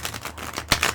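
Oracle cards from an angel-themed deck are shuffled by hand in a quick series of soft, papery riffles and snaps, close and fairly loud, with no talking.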